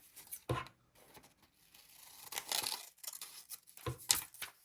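Scissors snipping a single sticky note from an ordinary pad down to a smaller size, with a few short close cuts and crinkly paper rustles spread across a quiet background.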